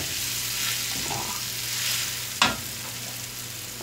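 Tiwul fried rice stirred in a frying pan, a continuous hiss of frying with a spatula scrape and one sharp clink against the pan midway, close and steady.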